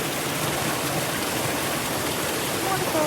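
Grasmere waterfall in the Lake District rushes continuously nearby, a full, steady roar of falling water that fills the whole moment without pause or change in level.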